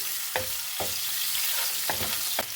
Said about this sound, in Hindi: 1 मिनट के लिए इसे हम फ्राई करेंगे।